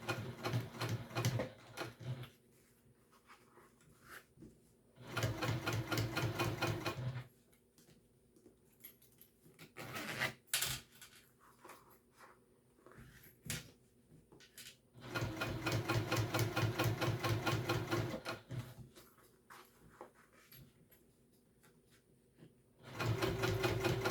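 Sewing machine top-stitching a backpack, running in long steady bursts of rapid needle chatter separated by quiet pauses, loud and close with no talking.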